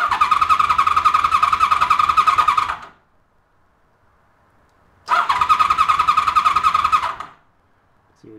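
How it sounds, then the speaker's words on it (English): A motorcycle's starter cranking the engine with the CDI unit disconnected so it cannot fire, two loud steady whirring runs of about three and two seconds separated by silence, close and alone. "I'm going to crank the bike with the CDI disconnected here"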